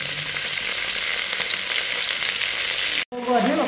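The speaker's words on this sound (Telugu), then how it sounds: "ఇందులో కొంచెం ఆయిల్ వేసుకుందాము. ఇందులో మనము గోంగూర కూడా ఫ్రై చేసుకుందాము." Gongura leaves frying in oil in a pan for a red chilli gongura pickle, a loud continuous sizzle with stirring, broken by a brief cut before a quieter stretch.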